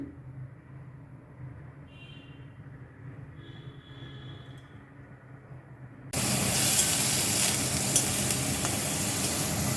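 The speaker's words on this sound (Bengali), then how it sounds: "পনিরটা একটু হালকা ভেজে নেব।" Paneer frying in hot oil in a wok: after a stretch of quiet low room hum, a loud, steady, close sizzle suddenly starts and carries on to the end.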